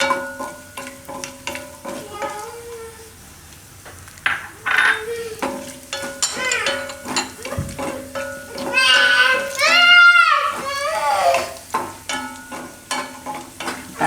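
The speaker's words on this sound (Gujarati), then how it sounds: "હવે આમાં કિસમિસ નાખી દઈએ એટલે ઘીમાં શેકાઈ જાય એ બધું." Raisins roasting in ghee for Gujarati sweet mango rice, a soft sizzle with stirring and scraping in the pan, broken by a few clinks, while someone talks over it.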